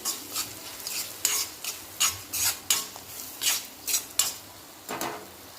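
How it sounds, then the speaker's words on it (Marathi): Black masala, salt, turmeric and garam masala are being stirred and roasted in hot oil for a bitter gourd curry. A spoon scrapes the pan in about ten rhythmic strokes over a soft sizzle. "आता मिक्स करून घेऊया थोडंसे भाजून घेऊया तेलामध्ये"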